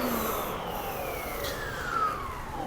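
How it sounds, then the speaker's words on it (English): A Tornado CVD 30 vacuum cleaner runs with its brush turning, a steady close motor whine with sliding tonal pitch shifts and a constant airy rush, with no talking. "You remove the obstruction and go ahead and restart, and the brush is going again."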